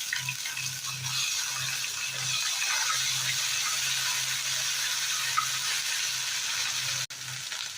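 Cumin, mustard seeds, asafoetida, curry leaves and ginger-garlic paste fry in hot oil in a pan on a gas stove, a steady close sizzling hiss that carries on throughout, with a faint low pulsing hum underneath.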